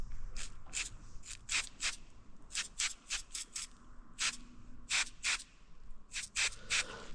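Leak detector spray hisses from an aerosol can in a fire engine rebuild, a dozen short bursts of varying length in an irregular rhythm, close and moderately loud over a faint low hum, with no talking.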